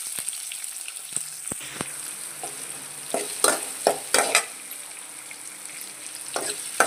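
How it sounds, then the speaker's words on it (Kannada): Sliced onions fry in hot tempering oil with curry leaves and broken chillies, giving a steady sizzle close by, broken by sharp clicks as a spoon stirs the pan. "ಈರುಳ್ಳಿನ ಕೆಂಪುಗಾಗೋವರೆಗೂ ಹುರಿಯೋಣ"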